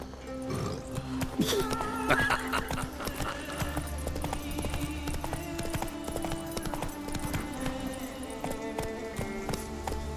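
Horse hooves clip-clop steadily at a riding pace in The Witcher 3, with a neigh near the start over a continuous game music and ambience bed, no talking.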